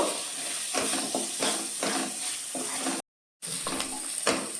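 Ground onion, cumin and turmeric spice paste with salt sizzles and hisses steadily in a pan, stirred with soft scraping strokes, close and alone, with a brief drop-out to silence midway.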